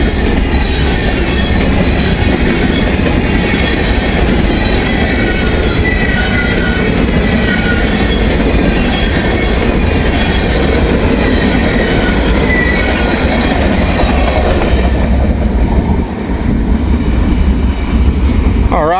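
The Connorsville local freight train rolls past up close, with loud rumbling railcars, rhythmic clickety-clack of wheels over rail joints and some wheel squeal, continuing steadily before easing off near the end.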